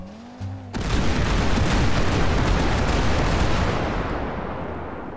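A sudden loud explosion in the game GTA 5 bursts in after a brief electronic tone, followed by a sustained roaring rumble that slowly fades over several seconds.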